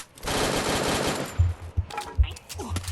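Gunfire in the mobile shooter Free Fire: a sustained loud burst of automatic fire at first, then a few low thumping shots and faint game sounds.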